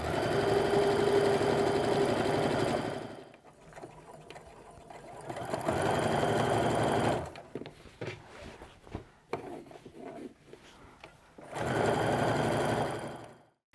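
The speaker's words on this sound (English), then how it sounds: "I'm just going to go ahead and stitch all the way across the top with that 1/8 of an inch stitch" A sewing machine stitches a line across the top of an apron in bursts, its fast, even whirring hum running for a few seconds, pausing amid small handling clicks, then starting up again, close and loud.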